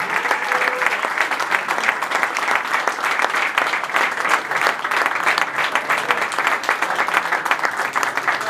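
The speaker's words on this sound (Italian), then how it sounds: "Forte, fortissimo l'applauso, facciamoci sentire per la leggenda Andrea Gracis" An arena crowd at an Udine basketball game applauds steadily for a legendary player, a dense, loud wash of clapping that holds evenly throughout with no pauses.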